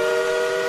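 A sustained, steady train whistle with a bright tonal chord, heard loud and unbroken for a brief moment.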